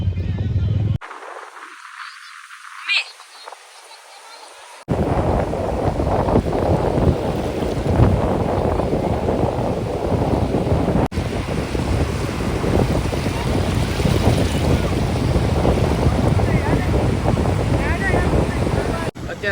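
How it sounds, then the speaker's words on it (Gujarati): Strong wind buffets the microphone at Mandvi beach with a loud, continuous roar over rushing sea waves, after a brief muffled quiet stretch at the start. "પવન હકીકતમાં બહુ વધારે છે અને દરિયો પણ બહુ વધારે ઓલો દેખાય છે."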